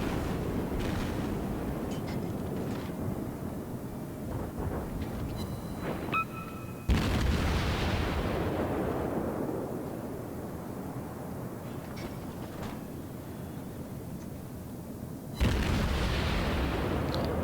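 Battleship guns fire salvos at the Wyoming in a naval video game. Two loud booming blasts stand apart several seconds, each fading into a long rumble over steady background noise.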